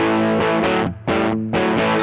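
An electric guitar plays through a Bogner Ecstasy Blue overdrive pedal on its Plexi setting, with spring reverb from the amp: loud, thick distorted chords struck in short phrases, with two brief gaps, sounding alone.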